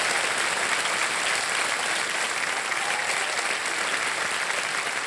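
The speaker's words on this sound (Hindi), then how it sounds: "तालियां बज जाए जोरदार इशिता जी के लिए" A studio audience on the quiz show KBC Season 15 applauds contestant Ishita Goyal from Mandi Dabwali, Haryana, with loud, dense, sustained clapping that fills the whole stretch at an even level, with no pauses or voices.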